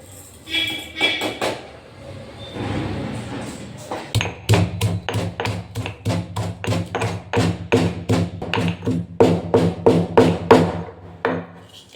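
Spices for rasam are pounded by hand, a fast run of sharp, evenly spaced thuds close by that follows some softer scraping, while a person talks over the pounding.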